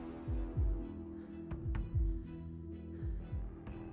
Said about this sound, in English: listening to each other's heavy breathing and heartbeats